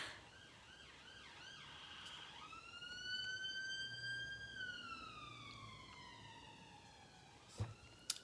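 A distant emergency vehicle siren wails and sweeps in rising and falling tones, faint and far off, with a couple of brief knocks nearby near the end.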